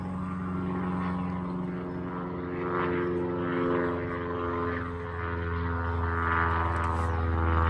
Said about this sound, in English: Airplane all the time.